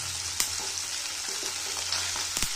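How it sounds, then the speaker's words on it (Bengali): Mustard seeds and dried red chili fry in hot oil with a steady, dense sizzle throughout, broken by a couple of sharp crackles or spatula taps near the pan. "একটু ভালো করে সর্ষের শুকনো লঙ্কাটা ভেজে নেবেন"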